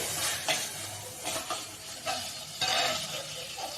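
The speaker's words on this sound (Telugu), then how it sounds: "కారం వేసేసుకొని ఇంకొకసారి కలుపుకోవడమే" Chili powder stirred into a quick poori potato curry in a pan: intermittent scraping strokes of a spoon against the pan over a soft, low sizzle, close and without talk.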